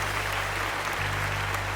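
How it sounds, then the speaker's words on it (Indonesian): Children and adults clapping together in a church Sunday school service, a steady dense wash of applause close and even throughout, with no voices over it. "Tepuk tangan dulu dong buat Tuhan Yesus dan buat adik-adik yang hebat."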